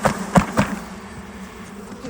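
Angry bees swarm inside a house during a removal, a dense steady buzzing hum with a few sharp louder bursts in the first half-second, close and continuous throughout.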